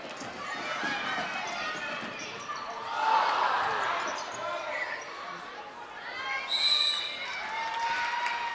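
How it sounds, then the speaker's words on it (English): Spectators at a girls' high school basketball tournament game between West Rutland and Middlebury roar briefly as a shot goes up, a swelling crowd noise mixed with sneaker squeaks under steady commentary. "Now you hear a little roar out of the crowd there as a shot that went up"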